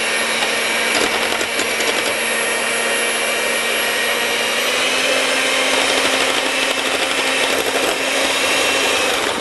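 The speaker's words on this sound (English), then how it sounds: "now it's time for the electric mixer" An electric mixer beats a batter of minced onion and sugar in a home kitchen, giving a steady, loud whirring drone that runs without a break for the whole stretch, with no talking over it.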